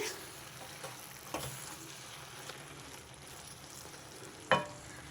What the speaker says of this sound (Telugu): ఇదంతా చక్కగా కలిపేసి